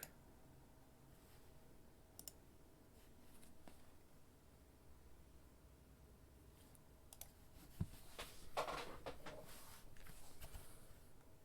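Typing test on an Alix40 mechanical keyboard, a faint, sparse patter of key clicks with a few sharper taps and a busier burst near the end, set against quiet room noise.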